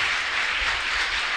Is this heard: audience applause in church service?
yes